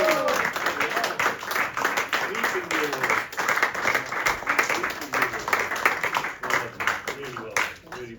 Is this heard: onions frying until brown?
no